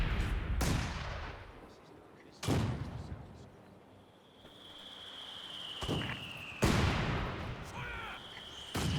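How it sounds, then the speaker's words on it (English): Gunfire booms out in a video game battle featuring a Vickers machine gun, loud separate blasts a few seconds apart, each with a long decaying tail, and someone talks in the background. "He's got a Vickers set up, and it's firing down."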